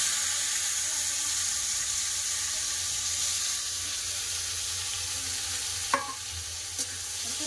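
Sliced bitter gourd fries in hot oil in a wok, giving a continuous close, even sizzle that runs steadily with a couple of brief sharp clicks near the end and no talking.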